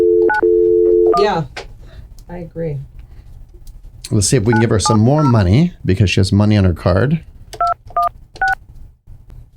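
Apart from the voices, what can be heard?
telephone dialing tones during a call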